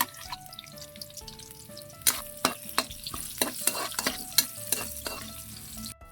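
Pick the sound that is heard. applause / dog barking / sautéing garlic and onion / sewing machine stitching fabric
sautéing garlic and onion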